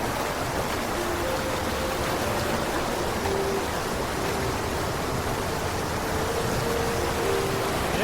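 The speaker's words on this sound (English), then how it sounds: "and I see another waterfall coming." A waterfall pours through a narrow canyon creek in Angeles National Forest, giving a dense, even rush of falling water close by that holds steady throughout.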